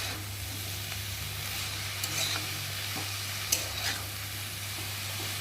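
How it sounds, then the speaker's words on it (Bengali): Cabbage cooking with a fish head being stirred in a pan, a steady frying sizzle under occasional scrapes and clinks of the spoon against the pan, close and continuous. "আর এখন আমি নেড়ে দেবো।"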